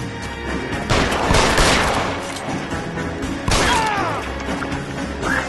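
Gunfire in the 1940s detective game L.A. Noire: a few loud, sharp shots with reverberant tails, including a strong crack near the end, over steady background noise.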